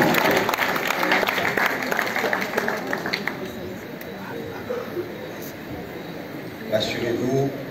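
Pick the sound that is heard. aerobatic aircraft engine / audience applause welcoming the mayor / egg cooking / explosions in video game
audience applause welcoming the mayor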